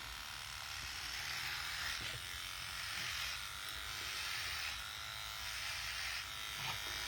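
Electric hair clippers hum with a steady buzzing drone, fairly quiet and close, running continuously without pause.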